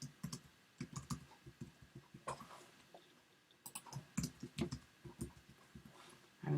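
A password is typed on a computer keyboard during account sign-up, with quick, uneven runs of soft close key clicks separated by short pauses, quiet with no talking.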